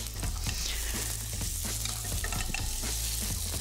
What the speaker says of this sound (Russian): теперь мы как раз-таки добавляем наши креветки сюда